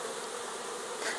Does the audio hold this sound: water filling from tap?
no